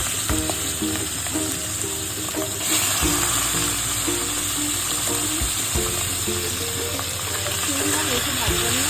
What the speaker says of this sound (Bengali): তো তেল আমাদের মোটামুটি গরম হয়ে এসেছে। এখন আমরা এর মধ্যে ছাড়বো হচ্ছে চিংড়ি মাছ।